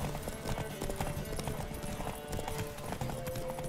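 A horse gallops in the video game The Witcher 3: Wild Hunt, its hooves beating a fast, steady clip-clop that runs continuously and close, with a faint whinny mixed in.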